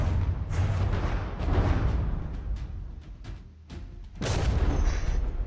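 Naval gunfire in From the Depths, with battleship turrets trading shots, heavy booms and blasts layered over a rumbling battle din, ending in a sharp loud explosion near the end, with no voices.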